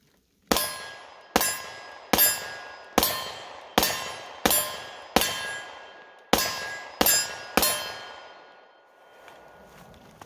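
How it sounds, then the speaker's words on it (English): Rock Island STK 100 pistol rounds striking a steel target at 10 yards: ten sharp metallic clangs in a quick, slightly uneven string, each ringing briefly before the next, with a longer fading ring after the last. "going to fire 30 rounds real quick at this piece of steel yard at 10 yards"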